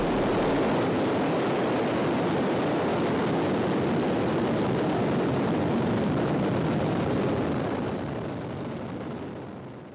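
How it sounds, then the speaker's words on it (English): A Soyuz-class rocket liftoff from the snowy steppes of Kazakhstan, carrying a British astronaut to the International Space Station: a sustained, powerful broadband roar that holds steady and then slowly begins to fade toward the end. "And liftoff."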